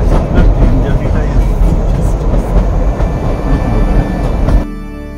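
Kalka–Shimla narrow-gauge toy train running on the Himalayan mountain railway near Summer Hill, a loud continuous rumble with rhythmic wheel clatter that drops off abruptly near the end.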